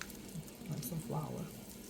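Flour stirred into hot olive oil and melted butter in a pan for a wet burrito casserole sauce, a quiet frying sizzle with soft scraping, under a faint low voice.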